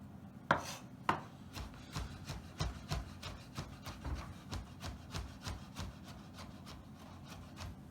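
A knife chops garlic on a wooden board in quick, even strokes, two sharper hits at the start followed by a steady run of softer taps, close up and quiet, with no voices.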